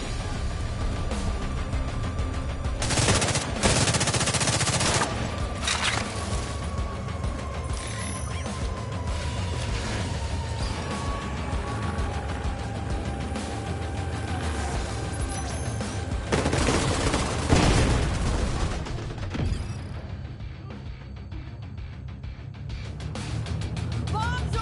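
Rapid bursts of gunfire in a shooter video game crackle and boom in dense volleys, with a few louder blasts standing out over continuous game noise and occasional voices.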